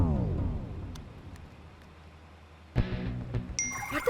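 Mostly quiet low hum, then a short bright electronic chime rings out near the end, like a phone alert.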